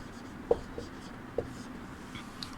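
Chalk writing a word on a classroom board, a few faint taps and short scratchy strokes over a quiet room background.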